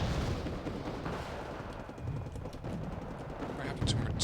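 Tank cannon fire and explosions in Wargame Red Dragon rumble in a dense, continuous barrage, with heavy booms layered over a noisy battlefield wash and a sharper blast near the end.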